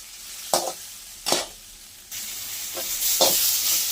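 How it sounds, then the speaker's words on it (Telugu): Small chopped onions fry in hot oil in a pan, a steady close sizzle broken by a few sharp scraping stirs, with no voices. "ఆ ఎర్రగడ్డ అనేది చిన్న చిన్న ముక్కలుగా కట్ చేసుకొని మనం దాన్ని కూడా దోరగా వేయించుకోవాలి గోల్డెన్ కలర్లో"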